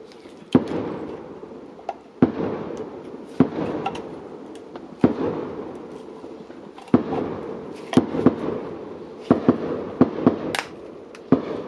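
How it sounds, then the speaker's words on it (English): Fireworks explode outside in a string of sharp, irregularly spaced bangs, loud and fairly near, each crack followed by a brief rumbling tail over steady background noise. "Oh, it's a fireworks."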